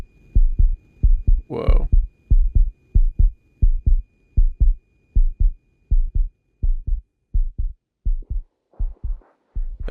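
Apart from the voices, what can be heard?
heartbeat sound from the video game The Invincible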